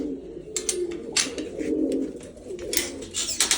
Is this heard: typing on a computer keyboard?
no